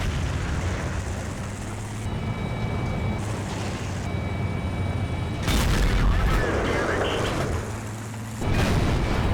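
A Conqueror tank in World of Tanks taking a shell that bounces off its angled upper glacis armor: a heavy booming impact over a constant loud roar of engine and battle noise, with another deep thud near the end.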